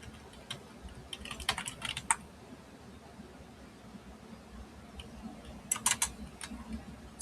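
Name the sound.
typing on a computer keyboard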